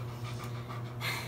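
A dog pants in short, quick breaths, close and quiet, over a low steady hum for a brief moment.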